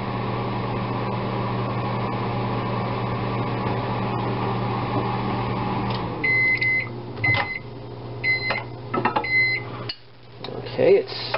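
A microwave oven hums steadily while heating chocolate to melt it, then stops and beeps several times before clanks and handling noises follow.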